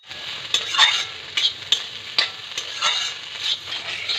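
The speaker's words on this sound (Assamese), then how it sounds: "ভালদৰে লাৰি থাকিব।" Mixed vegetables stirred in a pan as they fry with turmeric and cumin, a steady soft sizzle broken by repeated scraping strokes of a spoon at an irregular rhythm, close and moderately quiet.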